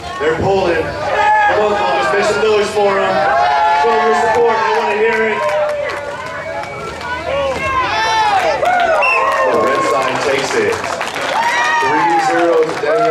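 A large arena crowd at a Mas-wrestling world championship in Columbus, USA roars and claps steadily throughout, loud and dense, with an announcer's voice riding over the noise.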